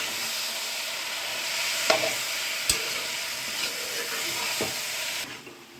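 Chicken pepper dry fries in a pan with a steady sizzling hiss, broken by a few sharp knocks of a spoon as it is stirred, before the sizzle quiets near the end.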